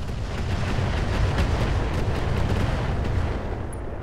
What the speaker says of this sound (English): Let's use up this little bit of incendiary on this guy.